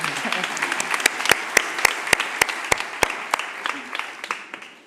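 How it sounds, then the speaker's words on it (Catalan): Applause at an awards gala, with a crowd clapping in a scattered wash and a few sharp, loud claps close by standing out, all fading toward the end. Speech is faint underneath. "Un aplaudiment ben fort per Arnau."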